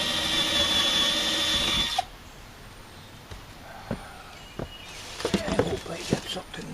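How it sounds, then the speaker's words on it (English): A cordless power drill runs steadily for about two seconds during a home shed repair, whining loud and close, then stops and gives way to quieter knocks and handling sounds. "I got a drill here."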